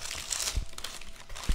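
Parchment paper crinkles and rustles softly as a freshly baked chocolate sponge cake is rolled up in it, a quiet, continuous crackling with a couple of light thumps.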